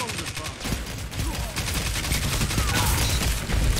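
Sidearm gunfire in a sci-fi shooter video game, rapid dense bursts of shots in a loud, continuous volley, with a voice talking over part of it.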